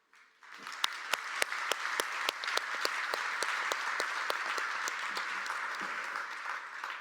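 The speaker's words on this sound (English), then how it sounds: "Please, a round of applause for the UN Mine Action." A large audience applauding at the opening session of a UN conference on mine action, sustained even clapping that swells quickly and holds steady, with a few louder individual claps near the start.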